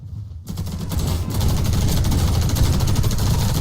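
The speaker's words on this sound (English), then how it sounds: "I may or may not have shot you, Walter." Rapid automatic gunfire in the Warface shooter game, starting after a short quiet moment and building into a dense, continuous loud burst of shots.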